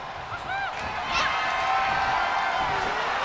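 A crowd in the WWE 2K23 wrestling video game cheers and roars in a steady swell that grows louder after the first second, while a commentator's voice carries over it.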